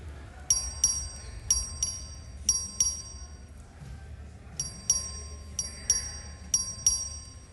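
Division bell in the Texas House chamber ringing for a record vote, sounding as repeated short bright electric rings in two bursts of clustered strikes over a low room hum, with no talking.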